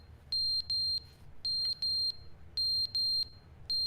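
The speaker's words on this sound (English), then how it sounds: "The battery on the smoke detector has failed." A smoke detector in The Stanley Parable video game sounds a loud, high, piercing electronic alarm in paired bursts that repeat evenly over a low background hum, with no talk.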